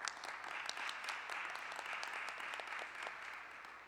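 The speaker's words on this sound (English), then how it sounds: "Please give them a round of applause" An audience at a high school recognition event applauds, a steady, dense clapping from many hands held evenly for several seconds before tapering slightly, with no voices on top.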